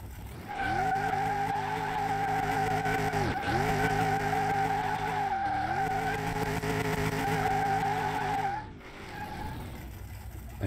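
A 1971 Plymouth Barracuda roaring at high speed in Car Mechanic Simulator 2021, its steady, loud engine drone dipping in pitch several times as the tires skid through turns, with no talk over it.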